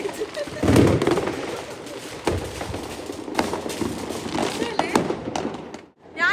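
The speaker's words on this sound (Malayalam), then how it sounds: "നെതർലൻഡ്സിൽ വന്നിട്ട് കണ്ട ഏറ്റവും ബെസ്റ്റ് ഫയർ വർക്ക്സ് ഇവിടുത്തെ അല്ലെ?" New Year fireworks in the Netherlands crackle and pop in scattered bursts, some near and sharp, others distant, under a steady outdoor rumble with voices present.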